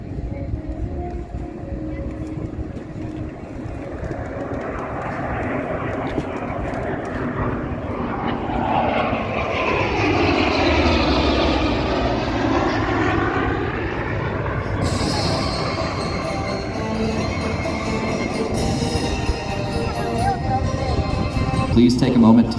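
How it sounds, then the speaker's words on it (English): An F8F Bearcat and an F-18 Super Hornet fly in a two-plane formation over an airshow, their engine roar swelling and sweeping past in a loud, steady drone lasting the whole stretch. "Flying number 2 position on the formation is the F-18 Super Hornet, the preeminent strike fighter of today's carrier."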